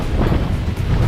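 A short burst of rumbling surf from big waves at Morong Beach on Sabtang Island, Batanes, with wind noise, loud and continuous, with no voices.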